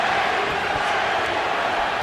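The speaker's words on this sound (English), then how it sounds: "Pacquiao crowd chanting Manny, Manny, Manny" A large arena crowd at the Manny Pacquiao versus Erik Morales boxing rematch roars and chants, a dense sustained wash of many voices with a few rhythmic swells, loud and continuous.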